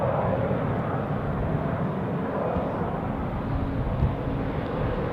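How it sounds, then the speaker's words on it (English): A heavy aircraft departing Zurich Airport in crosswinds, a broad continuous jet engine roar with rumble and wind noise, steady and fairly loud throughout. "So, that was the first of many heavy departures"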